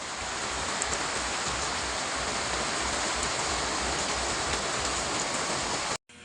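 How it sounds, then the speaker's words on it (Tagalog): Heavy rain pours steadily during a storm, a dense, loud, continuous roar of drops on surfaces that cuts off abruptly near the end. "lakas ang ulan, oh"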